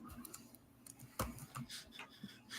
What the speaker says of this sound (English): You know your hands are typing